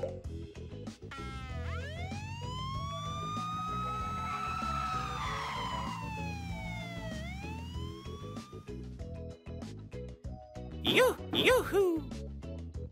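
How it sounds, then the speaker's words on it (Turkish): Police siren wailing in rising and falling sweeps, loud and close, followed by rapid yelping siren bursts near the end. "Polis arabası."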